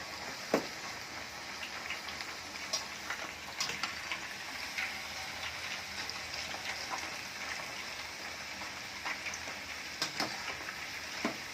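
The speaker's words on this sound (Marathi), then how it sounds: "स्लाइस करून आपण आता तळून घेत आहोत" Raw banana slices frying in hot oil for homemade wafers, giving a steady, close crackling sizzle with scattered pops and louder spits throughout, no voices.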